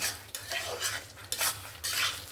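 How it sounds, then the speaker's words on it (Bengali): Potato pieces stir-fried with spice masala in a pan for a cabbage and fish-head dish, with repeated scraping sweeps of a spoon over a low sizzle, close and without talk. "আলুগুলো দিয়েও মশলার সঙ্গে ভালো করে কষিয়ে নেব"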